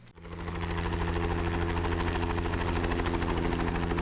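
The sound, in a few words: helicopter engine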